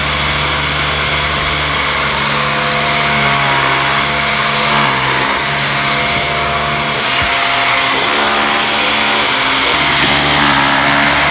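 A Raycop UV-light mattress vacuum motor runs loud and continuous with a steady high-pitched whine and hum, unchanging throughout, with no other sounds over it.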